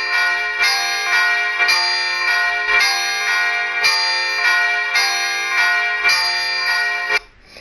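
Church bells played on GarageBand, a plenum of three bells, ringing in a steady repeating pattern of bright, sustained strikes that overlap and decay, loud and alone until a sudden stop near the end.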